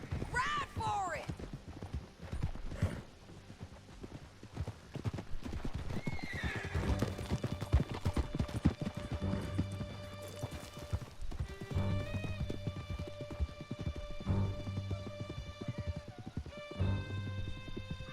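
Horses gallop in Red Dead Redemption 2, with steady close hoofbeats and several loud whinnies over music and voices throughout.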